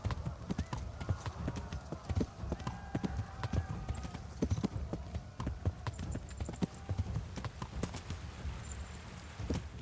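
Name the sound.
horse hooves galloping in video game Kingdom Come Deliverance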